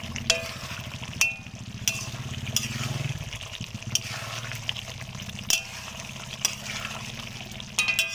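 Duck meat curry with masala sizzles and fries in a pan, a steady crackle broken by sharp scraping strokes of a stirring spoon.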